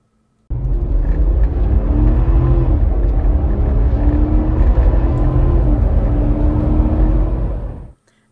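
An INEOS fitted with a TDI Performance tuning box accelerates hard from 25 to 100 at maximum horsepower, its engine a loud, steady, rising roar with road rumble that holds for about seven seconds before cutting off.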